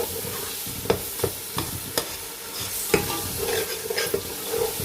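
Yogurt is stirred into a sizzling pan of chicken tikka biryani, with a steady frying hiss broken by repeated scraping clacks of the spoon.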